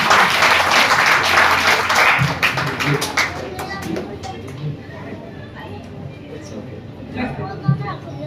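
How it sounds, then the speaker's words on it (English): An audience at a spina bifida awareness and screening camp bursts into loud applause that tapers off after a few seconds, leaving scattered claps and background chatter. "So big round of applause for Dr. Alwani."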